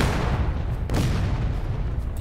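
A rifle volley in the War of Rights video game, set against dense loud battle noise, with one sharp crack of massed gunfire standing out midway before the rumble carries on.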